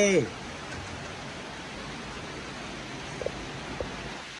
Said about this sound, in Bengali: ওয়াও কি সুন্দর বৃষ্টি হচ্ছে রে, আমরা ভিজতেছি রে